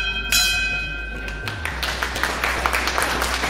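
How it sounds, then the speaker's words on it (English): A hospital end-of-treatment bell rung by a patient after finishing treatment, with a sharp ringing strike followed by a lingering tone and scattered clapping and taps from people nearby. "And he rang the bell again."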